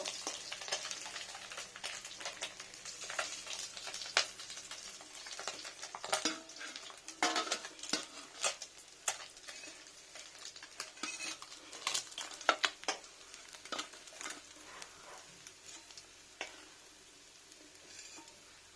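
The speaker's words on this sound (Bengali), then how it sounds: "দেখুন ফ্রেন্ডস কত মাছ ভাজা হয়ে গেল" A catla fish head fries in oil in a pan, giving a continuous sizzle broken by the clinks and scrapes of a utensil stirring and turning it, with no talk.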